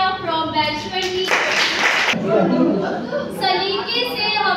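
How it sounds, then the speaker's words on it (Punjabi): A short burst of clapping from an audience at a university seminar, rising for about a second amid chatter, with a speaking voice before and after. "ਤੁਹਾਡੀ ਸਭ ਦੀ ਭਰਪੂਰ ਤੇਜ਼ ਤੜਕਦੀ ਗੜਕਦੀ ਤਾਲੀਆਂ ਦੇ ਨਾਲ ਵੈਲਕਮ ਸ਼ਾਫਿਆ ਫਰੋਮ ਬੈਚ 20"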